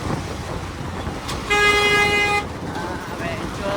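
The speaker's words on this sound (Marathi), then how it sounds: "हॉर्न बघा, हॉर्न दादाचा हॉर्न आहे." A vehicle horn gives one sustained, steady toot of about a second, loud and close, over a noisy outdoor background where voices can be heard.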